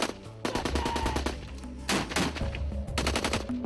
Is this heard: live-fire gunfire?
yes